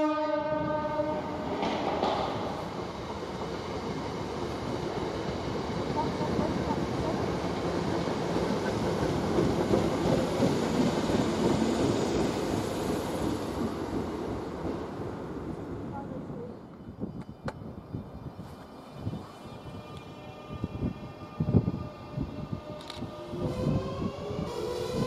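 A Greater Anglia train passing through Cambridge station, a steady loud rumble and rolling wheel noise that fades away, then quieter station sounds with distant clanks and a brief horn-like tone.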